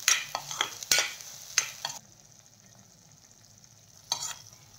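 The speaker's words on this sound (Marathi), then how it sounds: "पेस्ट आपल्याला छान 2-1 मिनिट परतून घ्यायची आहे" A spatula stirs masala paste frying in a pan for paneer masala, producing several sharp scraping knocks in quick succession over a low steady sizzle, then a pause and one more scrape near the end.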